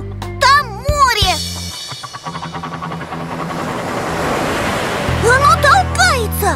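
Sea waves in a cartoon rush and wash in a steady broadband swell, while a voice and sung or chirpy tones play over the surf at the start and end.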